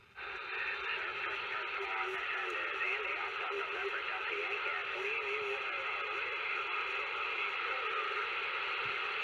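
Steady hiss of static and faint reception murmur from an Emperor TS-5010 CB radio on sideband, continuous and moderately loud with no break for the whole stretch.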